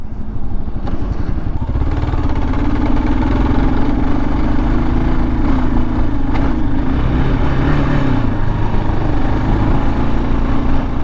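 A Kawasaki KLR 650 motorcycle engine with a carburetor issue idles loudly and unevenly up close, its low rumble wavering and sagging as it starts to die, with no talking.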